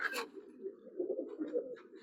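Pigeons cooing in a breeder room, low soft rolling coos repeating close by, with a brief higher flutter or chirp at the start and near the end.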